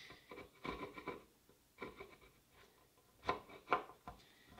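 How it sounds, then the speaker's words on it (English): Scraper rasping old glue off a wooden farmhouse dining table in short, uneven strokes, close and fairly quiet, with bursts of scraping separated by brief pauses. "One thing I really need to do is just to scrape all this glue out."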